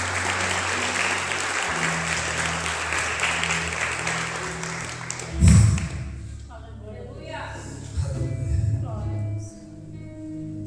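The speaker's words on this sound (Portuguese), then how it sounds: "Se tu crer, aplauda ele bem forte." Church congregation applauding loudly for several seconds, a dense wash of clapping that breaks off around the middle, followed by a low thump and then a preacher speaking with scattered sounds underneath.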